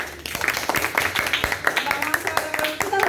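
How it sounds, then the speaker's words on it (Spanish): A church congregation at a Bible study claps along in a fast, steady rhythm, close and fairly loud, with voices talking and calling out over the clapping. "Un Poderoso aplauso."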